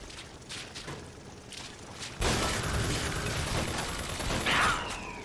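Turret gunfire in BioShock Infinite: Burial at Sea starts with a quieter muffled lead-in, then bursts into a loud, dense rattle of rapid shots with mechanical whirring that continues to the end.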